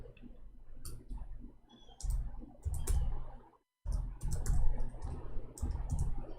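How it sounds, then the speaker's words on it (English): Fingers type on a computer keyboard in quick, irregular bursts of close, crisp key clicks, broken by one short silent pause midway before the tapping resumes. "We are typing in English, sorry."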